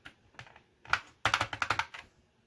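A repaired Commodore 64 keyboard being tested key by key, with a few soft clicks followed by a louder run of sharp, close plastic key presses in quick irregular succession, then quiet.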